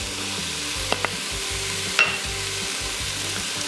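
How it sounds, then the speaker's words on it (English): Seasonings stirred into onions and celery frying in a pan for buffalo chicken chili, a steady close sizzle with a couple of sharp utensil taps and a scrape midway. "We're gonna coat our onions and celery with those seasonings"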